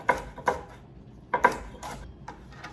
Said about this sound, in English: we're going to finely chop all of the rhubarb